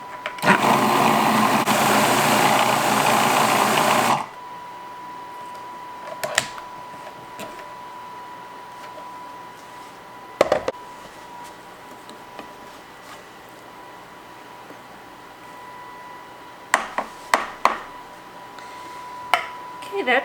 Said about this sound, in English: This is a really good food processor.